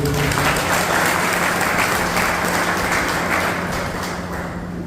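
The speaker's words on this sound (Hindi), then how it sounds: "उनके लिए जोर से ताली दीजिए" Loud, sustained applause from a large crowd at a talk in Rourkela Special Jail, dense clapping that carries on throughout and tapers slightly toward the end.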